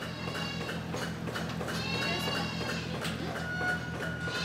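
Goats bleat in a continuous wavering chorus, several animals calling over one another at close to moderate distance against a steady farmyard background hum.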